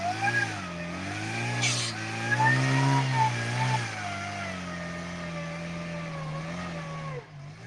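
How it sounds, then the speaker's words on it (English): A supercharged off-road vehicle crawling over hard rock revs its engine, a close, steady mid-pitched drone with a whining supercharger tone that rises and falls in pitch before easing off at the end. "You can hear that supercharger."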